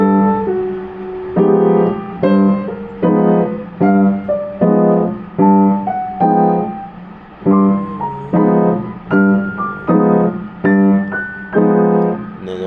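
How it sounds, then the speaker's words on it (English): Piano augmented triads played in a steady stride-like pattern, bass note then chord, repeated about a dozen times, descending across the keyboard with no talking. "I'm going to take it down the whole piano, and then I'll do it over the 5 chord,"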